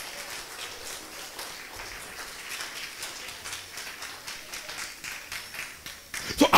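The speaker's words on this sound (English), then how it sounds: "Give a clap to Jesus." A church congregation at an anniversary celebration service claps for Jesus, a dense, steady patter of many hands that swells louder toward the end, with voices mixed in.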